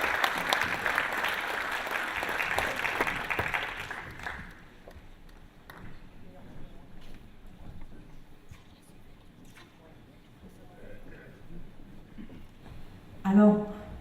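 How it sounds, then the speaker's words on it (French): An audience claps at a mayor's New Year greetings ceremony, with a burst of applause that fades after about four seconds into room murmur, and a voice speaks near the end. "Je vous demande de l'applaudir, vous allez l'applaudir encore plus après."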